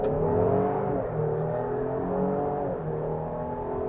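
A 2025 Lincoln Aviator's 3-liter engine pulls hard in its Excite sport mode, a steady, close, loud whirring roar with rising harmonic tones, held without a break and with no talking.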